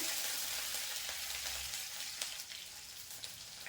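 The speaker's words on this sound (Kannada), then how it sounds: "ಈಗ ಒಂದು ಕಟ್ ಮಾಡ್ಕೊಂಡಿರೋಂಥ ಈರುಳ್ಳಿನ ಹಾಕ್ತಾ ಇದ್ದೀನಿ" Chopped onions fry in hot oil with curry leaves for egg sambar, a steady close sizzling hiss with a few soft crackles and stirring, no voices.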